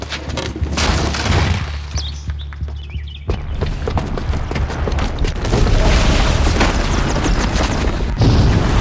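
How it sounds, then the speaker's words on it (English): A booby-trapped bomb goes off in the Horizon Zero Dawn video game, with heavy booming blasts, crashing debris and clattering impacts that continue and swell in a dense, loud wall of sound. "the booby trap on the bomb downstairs is gonna get set off"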